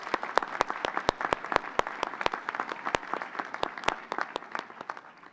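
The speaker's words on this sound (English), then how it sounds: "Let's give her applause." Audience applause at a university law school commencement ceremony, a dense crowd of clapping with sharp individual claps standing out near the front, steady for several seconds before thinning slightly at the end.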